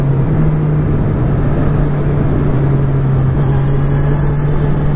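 A 2019 Honda CB1000R Plus motorcycle engine hums steadily while riding, held below 6,000 RPM during running-in, a constant mid-pitched drone mixed with wind rush, loud and close throughout with no clear rise or fall.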